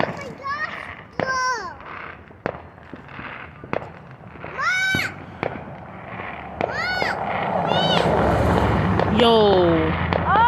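Fireworks bursting at a 4th of July celebration, with sharp cracks and pops scattered through the clip and a louder rumbling barrage near the end, under excited voices and high, warbling whistles.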